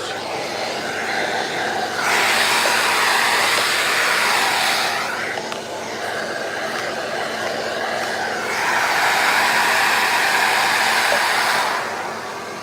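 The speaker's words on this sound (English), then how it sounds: "We get our hoover and we clean our cups" A vacuum cleaner runs close by, cleaning out epoxy mixing cups, a loud steady whine that surges in two long bursts with a brief dip between them.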